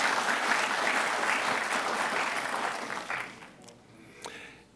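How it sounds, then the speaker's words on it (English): Applause rises from the audience at a university commencement ceremony, steady and full for about three seconds before thinning out and fading to scattered claps. "please give a round of applause for Jeffrey"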